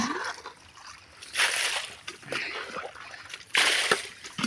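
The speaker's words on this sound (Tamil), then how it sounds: "இப்போ இந்த சைடு அம்மா தண்ணி நாங்கள் மொண்டு ஊற்றினோம்." Water is scooped and thrown out by hand while a fish pond is being drained, giving a series of close splashes and sloshes that come in irregular bursts.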